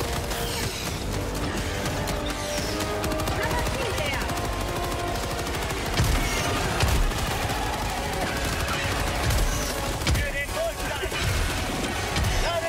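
Rapid, sustained automatic gunfire from the Helldivers 2 video game, with dense overlapping bursts and crashes that run continuously at a steady, loud level throughout.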